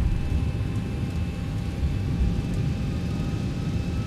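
Steady jet engine roar of a Boeing 737 in the X-Plane flight simulator with the ZIBO mod, a broad constant rumble with a thin whine above it, loud and unbroken, no voices.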